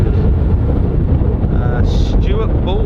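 Strong gusty wind buffeting a microphone on top of an airport control tower at Southend, a loud low rumble throughout, with a voice talking over it and faint higher tones toward the end.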